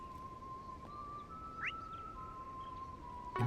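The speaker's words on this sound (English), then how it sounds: "Sounds like whistling? I think it's coming from northwest of here." Thin, distant whistling in the game Trails through Daybreak: one long steady tone held over a low ambient hum, with a brief rising chirp partway through and no speech.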